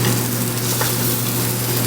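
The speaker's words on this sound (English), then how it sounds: "So I'm just searing it to trap in all of its juices and that wonderful flavor it has" Duck breast sears in a hot pan, a loud steady sizzle and crackle of fat filling the moment, close and unbroken.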